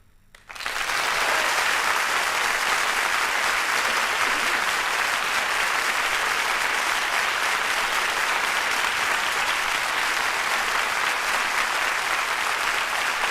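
A theatre concert audience applauding after a chanson performance at the Théâtre de la Ville: dense, loud clapping that starts abruptly and holds steady without a break.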